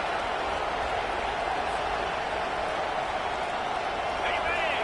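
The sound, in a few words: stadium crowd roaring at college football game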